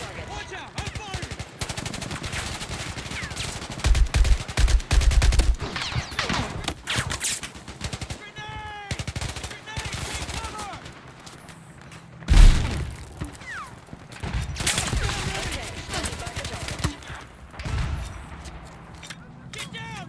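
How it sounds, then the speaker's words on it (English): Video game gunfire with rapid machine-gun rattles, scattered single shots and a heavy blast midway, loud and continuous, with shouted voices calling out over the combat. "Watch out! I'm firing!"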